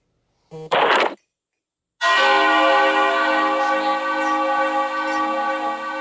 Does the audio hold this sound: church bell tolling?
yes